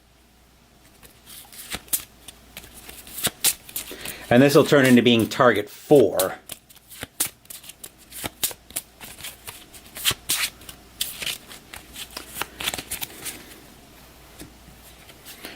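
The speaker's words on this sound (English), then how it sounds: "So I'll give these a quick shuffle." A deck of target cards for the B-17 Flying Fortress Leader board game is riffle-shuffled in a quick burst of close, crisp fluttering, followed by lighter card handling and taps while a person talks.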